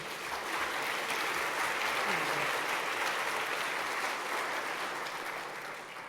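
Audience applause at a university convocation, a dense, even wash of clapping that holds steady for several seconds before tapering slightly.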